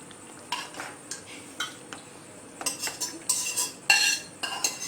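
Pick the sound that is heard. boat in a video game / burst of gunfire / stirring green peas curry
stirring green peas curry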